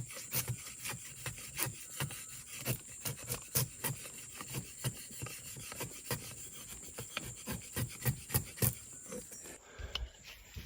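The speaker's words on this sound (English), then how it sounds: "I've been scraping off these from this dead wood I was showing you" A knife blade scrapes shavings from dead wood in the Guyana jungle, a close, rhythmic series of rough rasping strokes, about two per second, steady and distinct, ending in a brief pause; no speech.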